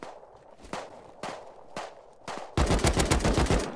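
Gunfire in the survival game Rust: four sharp single shots spaced about half a second apart, followed by a dense, loud burst of rapid automatic fire.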